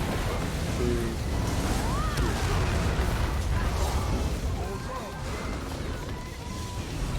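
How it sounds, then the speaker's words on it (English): Naval battle sounds from the warship game World of Warships: booming explosions and crashing impacts over a dense roar of sea and engine noise, while someone speaks briefly among the blasts. "Explosion."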